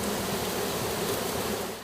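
Honey bees buzz at an apiary around the hive boxes, a dense continuous drone from many insects close by, steady throughout and fading slightly at the end, with no voices.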